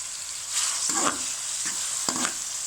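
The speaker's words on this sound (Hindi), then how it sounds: "इसके बाद हम टमाटर जो रखे हुए थे, इनको ऑयल में सॉफ्ट कर लेते हैं।" Tomatoes softening in hot oil for chicken tikka karahi, a quiet steady sizzle with a few stirring scrapes and clinks of a spoon against the pan, no talking.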